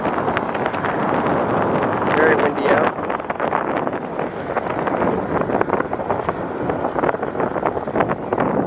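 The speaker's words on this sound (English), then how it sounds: "Very windy out." Strong wind buffets the microphone outdoors beside a theme park construction site, a steady loud broadband roar with gusty surges throughout, and faint voices may sit underneath.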